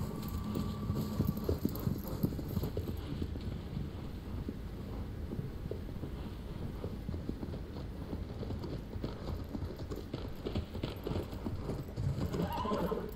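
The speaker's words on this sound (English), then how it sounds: "this horse though annoys the living shit out of me sometimes" Horse hoofbeats clip-clop steadily through a Shadow of the Colossus game world, with a brief whinny near the start, over a constant wind-like ambient bed at moderate level.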